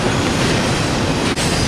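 Norfolk Southern freight train carrying colorful international shipping containers rolls past on the Fort Wayne Line, a steady, loud broadband rumble of cars and wheels with no pauses, a brief dip near the end.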